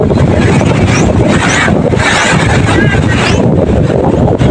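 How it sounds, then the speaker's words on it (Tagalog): Strong typhoon wind roars and buffets the microphone while waves crash and surge nearby, a loud continuous rumble with gusty swells. "Malakas pa rin po yung hangin at saka alon."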